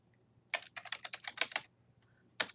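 Quick bursts of keystrokes on a computer keyboard, clustered into a rapid run of clicks and then one last short burst after a pause, close and clear over a quiet room.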